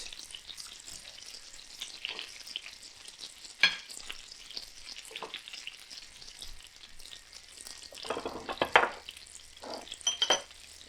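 Butter melting in a pan for fried chicken gives a faint, close sizzle, with scattered clinks of cookware and utensils and a couple of louder scraping bursts toward the end.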